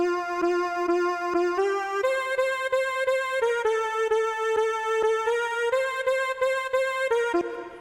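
A bright, reverberant synth line steps through sustained notes with a rhythmic plucky pulse, wide and airy, no voices; compressed, with EQ'd reverb and added stereo width.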